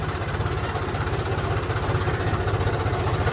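A tractor engine idles on a steep, soil-covered slope with a loud, steady low rumble and a fast, even throb that holds without a break and no voices over it.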